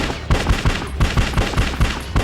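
Gunfire in the PS2 shooter Bad Boys: Miami Takedown, a rapid regular burst of loud game gunshots, about eight evenly spaced shots with no talk over them.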